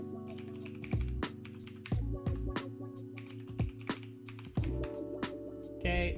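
Keys tapped on a computer keyboard while entering a password, a few short bursts of clicks spread over several seconds over a steady low hum with a faint voice in the background.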